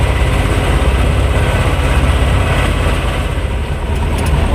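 A T-25 tractor engine drives along a rough field road, a loud, steady low rumble with continuous mechanical clatter held close throughout, with no talk over it.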